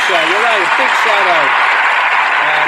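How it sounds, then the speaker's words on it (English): Audience clapping for a young English gold-medal winner, steady broadband applause heard under a speaker's voice that runs over its first half. "let's give a little clap"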